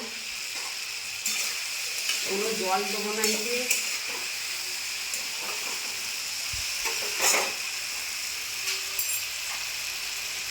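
Vegetables sizzle softly in a covered pan, a steady low frying hiss broken by a few clinks and stirring scrapes, while someone talks over it.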